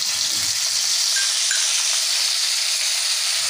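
Spice paste hitting hot oil for a Bengali pabda fish curry with brinjal and potato gives a steady, even sizzling hiss with steamy spitting, continuous and close, with no voice.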